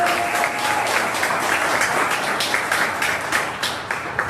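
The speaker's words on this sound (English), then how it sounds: "Let's give her a round of applause for Kelsey." An audience in a bar venue breaks into brisk, sustained applause, many hands clapping close and loud for about four seconds.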